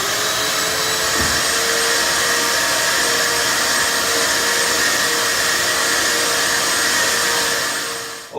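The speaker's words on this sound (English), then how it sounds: "we're going to vacuum off the window really good so there's no dust on it" Vacuum cleaner drawing dust off a sanded wooden window frame during trim prep, a loud steady whine and rush held close and unbroken for several seconds before cutting off, with no voices.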